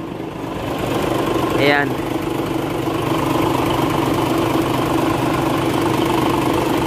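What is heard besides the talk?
Isuzu Gigamax 6WF1 truck engine idling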